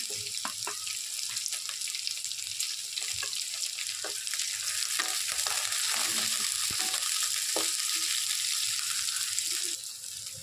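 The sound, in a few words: green chillies and onion frying in hot oil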